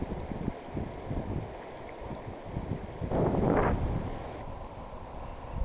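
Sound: strong wind

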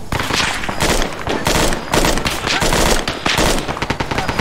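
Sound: gunfire in the video game Arma 3

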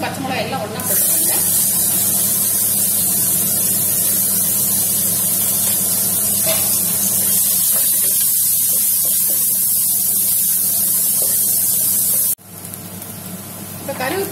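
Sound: onion, garlic and green chillies sizzling in a pan

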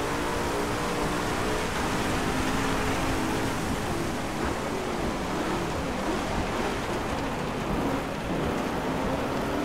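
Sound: rain and thunder effects in DriveClub video game

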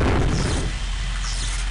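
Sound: explosion in video game Daikatana

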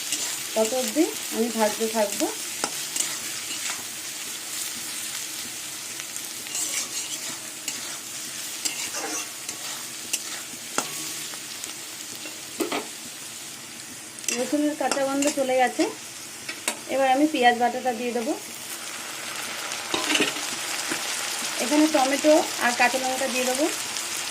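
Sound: potatoes and onions frying with garlic paste in a pan

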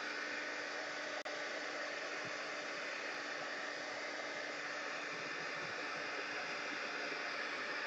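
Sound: heat gun drying ink

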